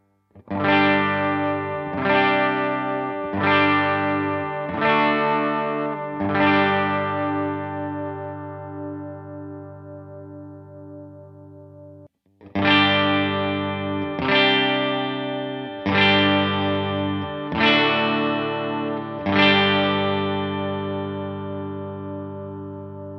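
Distorted electric guitar on a Les Paul Tribute's bridge pickup strums chords in two groups of five, each ringing with sustain, a brief pause between groups, loud and close with no talking.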